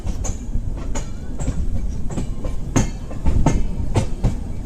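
Rhythmic clickety-clack of the Arunachal AC SF Express train running over rail joints, a close, steady rolling rumble punctuated by sharp, regularly spaced wheel clicks.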